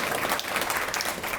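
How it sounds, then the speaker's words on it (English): Brief burst of audience applause at a rodeo reading challenge awards event during Fiesta Days, dense clapping from a crowd, steady and moderately loud. "Another round of applause for Reams"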